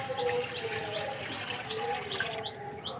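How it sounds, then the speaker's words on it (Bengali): Water poured into a hot wok in a village kitchen makes a short, steady splashing and gurgling rush of liquid, close by and moderately loud, with no voices. "আমি কড়ার মধ্যে জল দেবো, কড়াটা গরম হয়ে গেছে,"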